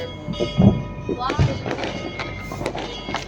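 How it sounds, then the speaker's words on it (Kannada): Firecrackers bursting at a New Year celebration: a few dull, thudding bangs, one near 0.6 s and another near 1.4 s, under a chatter of voices. "ಅಲ್ಲೂ ಪಟಾಕಿ ಹೊಡಿತಾವ್ರೆ"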